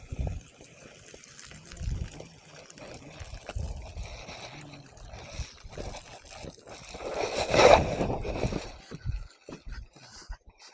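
Water drains and trickles off cooked rice in a home kitchen, a loose pouring and splashing that builds to a louder gush near the middle, with a voice talking at times and pot handling around it.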